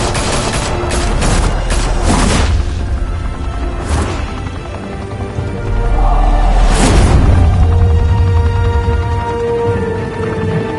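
Rapid bursts of gunfire ring out in the Telltale Batman game, loud repeated volleys early on with a heavy boom near the middle, followed by a sustained low rumble.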